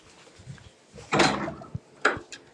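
Soft knocks on a room door in Berlin lead into a louder clatter as the door opens, then a second sharp bump; brief, close, and with no talking.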